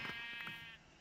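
A single sheep in Minecraft gives a short, clear, nasal bleat with a wavering tone, close and fairly quiet, alone.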